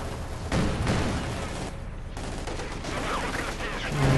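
Rapid gunfire crackles in a Company of Heroes 2 battle, a dense fusillade of shots with booms beneath, steady and loud throughout the clip.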